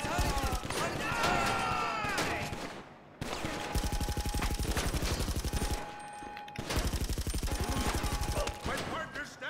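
Rapid automatic gunfire during a chop shop robbery mission in GTA V Online, sustained bursts of sharp cracks broken by brief pauses, with game voices shouting over the shooting.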